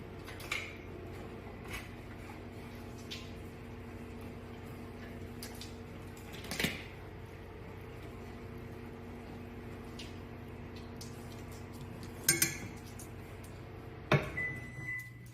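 Spoon scraping and clinking in a bowl of melted chocolate chips, with a few sharp knocks against the side breaking up a faint steady hum, close and quiet, no voices.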